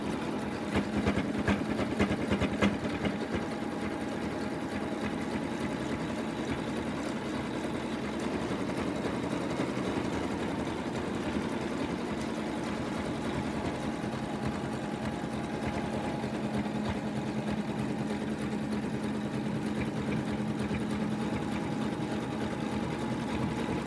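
Embroidery machine stitching the final color of a lamb design, a steady, continuous mechanical whir with a rapid needle rhythm that holds without a break throughout.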